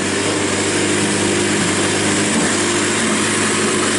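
A fully built turbocharged Honda D16 engine running on its first start, a loud, steady, buzzing drone close by with no pauses.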